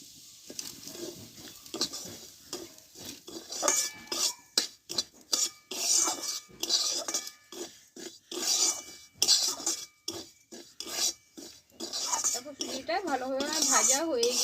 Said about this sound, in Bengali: সুজিটা একটু ভালো করে ভেজে নেবো